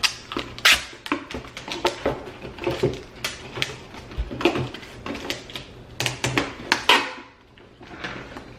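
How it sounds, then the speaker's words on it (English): Packing tape pulled and pressed onto a USPS shoebox cardboard shipping box, heard as a close series of sharp tearing rasps, crackles and taps in irregular bursts with no talking. "Now I'm not going to tape this up that well just yet."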